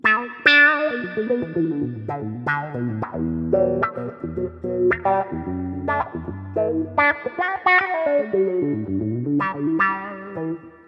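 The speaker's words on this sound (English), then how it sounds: "Now as I scroll through these, we're now on red, we've got this T-wah." An electric guitar plays a busy melodic line through a Boss Katana 100 amplifier's T-wah auto-wah effect, each note sweeping with a vocal, quacking filter; no voices.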